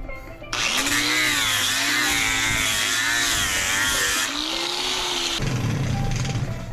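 An electric grinder fitted with 60 grit sandpaper sands an aluminum dinghy davit, giving a loud, steady whine whose pitch shifts as pressure changes before it winds down near the end.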